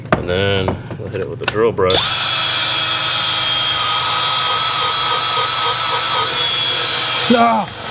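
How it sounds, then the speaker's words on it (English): A drill brush whirring steadily as it scrubs car upholstery during an interior detail, a continuous motor drone after a brief start, cutting off just before the end, with a voice briefly heard around it. "and then we'll hit it with the drill brush."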